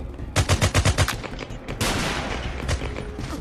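Rapid bursts of gunfire in a VR shooter game, a tight string of about eight loud shots followed by a denser, sustained rattle of firing that carries on to the end.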